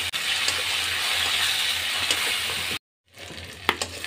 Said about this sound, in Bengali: এখন দেব রসুন বাটা, আমি দিয়ে আবার এগুলো ভেজে নেব পেঁয়াজের সঙ্গে।